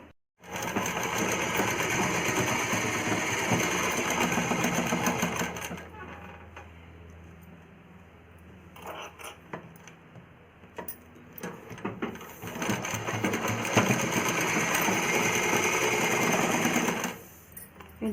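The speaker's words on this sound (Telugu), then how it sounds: "డబుల్ స్టిచ్ చేసుకోవాలి" An electric sewing machine stitches the shoulder seams of a small child's umbrella frock in long steady whirring runs, pausing briefly around the middle and again near the end.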